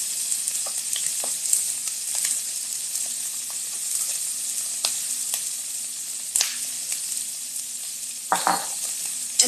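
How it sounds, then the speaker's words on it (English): Shrimp sear in olive oil in a pan with a continuous close hiss and crackle, broken by small stirring clicks and a brief louder sputter near the end. "So we're just going to give that a quick sear."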